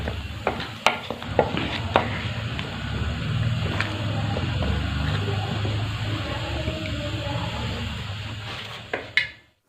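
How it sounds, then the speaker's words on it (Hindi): A spoon stirs turnip sabzi in a frying pan, with steady sizzling throughout and scattered scraping clicks against the pan, close and moderately loud. "अब हम इनको चमचे की मदद से थोड़ा मिक्स कर लेंगे ताकि तमाम चीज़ें अच्छी तरह पक जाएं।"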